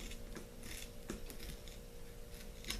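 Scissors snip straight across sporran belt material at close range, a few crisp cutting crunches and small mechanical clicks spread through a quiet room with no talking.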